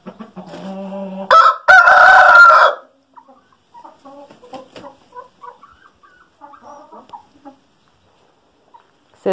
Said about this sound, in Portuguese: Galo Marcelo, tá vendo aí?